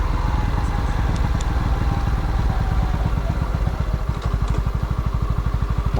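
A Honda CB125R motorcycle rolls slowly down a narrow cobbled street, its steady single-cylinder engine thrum broken by a rapid rattling clatter as the tyres bounce over the paving stones.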